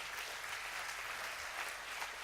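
A theatre audience at a finale event claps steadily for a performer on stage, a soft, even, continuous patter of many hands heard at a distance.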